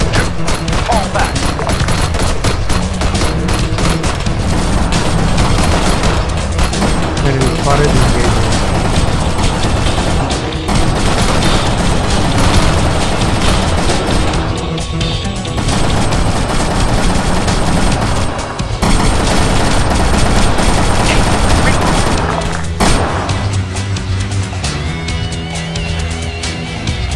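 Dense gunfire rattles through a firefight in the ARMA 3 video game around a house and a complex of buildings: loud, continuous bursts of automatic fire and single shots, with brief lulls and some voice chatter mixed in.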